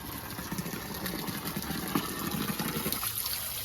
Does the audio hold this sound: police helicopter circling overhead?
no